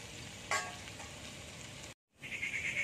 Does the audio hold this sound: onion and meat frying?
yes